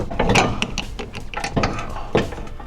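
A ratchet with a 6mm Allen head socket works a sway bar mount bolt during a rear sway bar install on a Volkswagen GTI, giving close clicking and scraping metal sounds in short uneven bursts.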